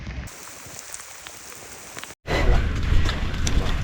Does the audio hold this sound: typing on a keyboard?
no